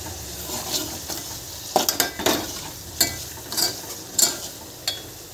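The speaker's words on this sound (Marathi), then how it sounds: "ते आता कढईत काढून घेतलं आणि मसाला फ्राय होतोय." Masala frying in a kadai with scattered stirring and scraping clinks, bursts of sizzle rising and falling between strokes, close and moderately loud.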